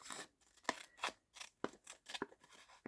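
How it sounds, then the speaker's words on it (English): Scissors snip through a paper envelope along its fold in a series of short, close, crisp cuts with brief pauses between them, heard alone at low volume. "So I'm just going to cut that. And you cut along this fold right here."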